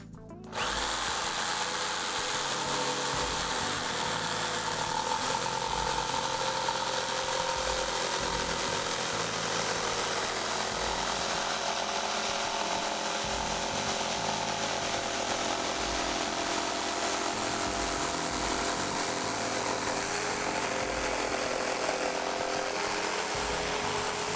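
A jigsaw saws steadily through a piece of wood in one long, loud, unbroken cut that starts abruptly and runs close up for the whole stretch, with no talking.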